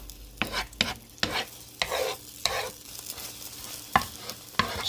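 A spatula scrapes and taps against a pan in irregular strokes while a single egg is scrambled, over a light, steady sizzle, close by.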